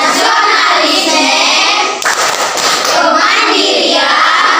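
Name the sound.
rhythmic hand clapping of the PPK clap chant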